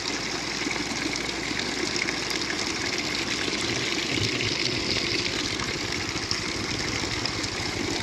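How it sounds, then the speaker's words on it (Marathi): Water gushes steadily out of a hand pump on its own, with no one working the handle, a continuous close rushing splash that holds at the same level throughout. "न काही हापसा करता पाणी बाहेर पडत आहे मित्रांनो"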